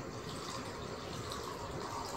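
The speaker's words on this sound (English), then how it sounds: "If you pour water, what exactly happens?" Water poured out in a classroom demonstration, a continuous splashing gush of liquid lasting a couple of seconds, fairly quiet and with no voices over it.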